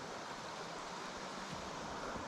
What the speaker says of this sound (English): There's a lot of water going underneath that rock